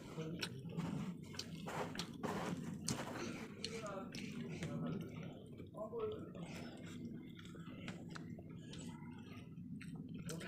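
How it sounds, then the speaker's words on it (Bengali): Close, wet chewing and mouth sounds while eating chicken curry with gravy, irregular smacks and slurps throughout, with a person talking over part of it. "গ্রেভিটা দিয়ে খাচ্ছি।"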